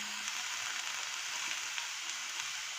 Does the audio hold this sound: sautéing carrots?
yes